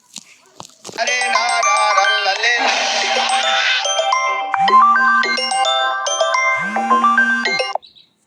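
A mobile phone rings in a village setting, its melodic ringtone chiming loudly and close for about seven seconds before cutting off abruptly.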